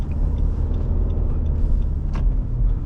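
A 2017 Nissan Rogue SV picking up speed under throttle, heard from inside as a steady low engine and road rumble that stays loud and continuous throughout, with a brief faint higher swell near the end.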